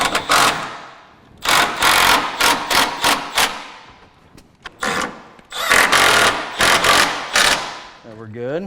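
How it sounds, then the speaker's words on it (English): An impact driver drives screws into pre-drilled holes while mounting a wall-hung toilet carrier, loud close rattling bursts of a second or so repeating with short gaps. "And then I'll tighten them down with my impact."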